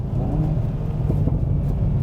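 A 2022 Hyundai Veloster N hatchback with active sport exhaust downshifts through the gears on paddle shifters, giving a close, low, steady engine rumble and exhaust burble heard from inside the car, with no talking.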